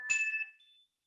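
A struck tuning fork gives one brief, bright metallic ring that fades within a second, quiet and alone.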